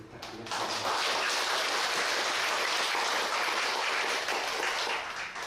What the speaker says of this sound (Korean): 공서 진리를 실천하고 계신 이태영 교수님에게 큰 박수 부탁드리겠습니다.